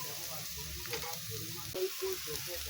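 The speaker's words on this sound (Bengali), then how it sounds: "পেঁয়াজ দিয়ে দিলাম পেঁয়াজটা ভালো করে ভেজে নেবো" Onions fry in oil in a pan, giving a soft continuous sizzle with some faint clinking and muffled background sounds.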